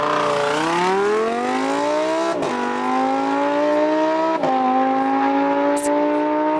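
Supercar engine revving hard on a race track, a loud sustained roar climbing in pitch with two sharp gear-shift dips, steady and close throughout with no talking.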